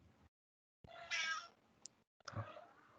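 A cat meows close by in a small indoor space, one drawn-out meow followed by a shorter one after a brief pause, with silence around them.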